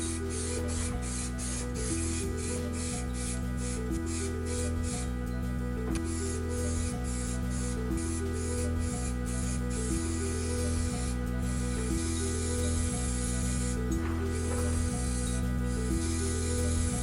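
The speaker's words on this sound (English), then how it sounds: "apply a layer of metal paint" Spray paint hissing steadily onto laser cut metal parts as a coat of metal paint goes on, alongside a repetitive mechanical rattle and rhythmic clicking throughout.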